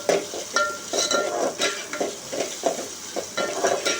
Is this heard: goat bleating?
no